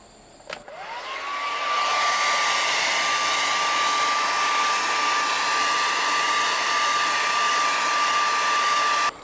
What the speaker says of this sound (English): let me get the blow dryer.